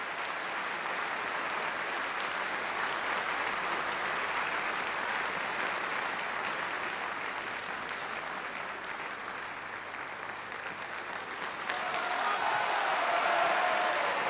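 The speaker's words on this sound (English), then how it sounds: "roar of applause for Della Jones as Valencienne and Graham Clark as Camille de Rosillon" Roaring opera audience applause at a curtain call for a 1980 televised Merry Widow by Lehár, dense and sustained throughout, swelling louder near the end.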